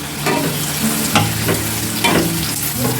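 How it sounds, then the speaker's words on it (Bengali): Chopped onion, minced garlic, whole black pepper and garam masala spices sizzling in a hot pan for a prawn pulao, with steady frying hiss and a few sharper stirring scrapes, close and alone without talk. "এবার আমি গরম মশলা দিয়ে দিচ্ছি, গোটা গোলমরিচ দিয়ে দিচ্ছি, রসুন কুচি দিয়ে দিচ্ছি আর দিয়ে দিলাম পেঁয়াজ কুচি"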